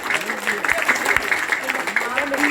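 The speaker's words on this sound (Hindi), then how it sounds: "जोरदार ताली बजाइए आप लोग।" An audience at a gurukul gathering in Kolkata claps steadily, a dense patter of many hands beneath a speaking voice.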